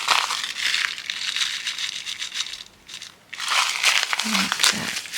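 Plastic crinkles and crunches loudly and steadily, briefly quieting before resuming, with a voice faintly underneath.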